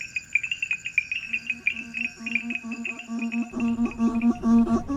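A night chorus of insects and pond animals beside a small lake in Benin, with shrill continuous trilling, pulsing chirps and, partway in, a deeper rhythmic croaking that joins the din, steady and close with no voices.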